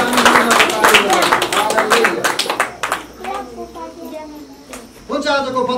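A congregation at a Nepali Christian wedding claps together in a quick, loud burst of rhythmic hand claps that dies away, followed by a preacher speaking.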